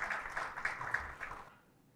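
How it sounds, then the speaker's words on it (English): Audience applause at a graduation ceremony for an HR mentoring programme, a soft, fairly distant patter of clapping that runs steadily for about a second and a half and then fades out. "Please give her a round of applause."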